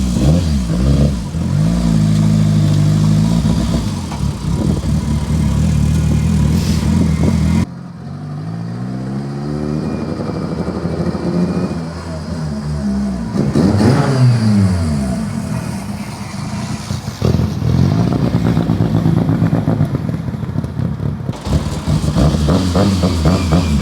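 Mitsubishi Evo engine revving and accelerating on the road with no windshield fitted, a loud, continuous drone that rises and falls in pitch, mixed with heavy wind rush and a brief lull partway through.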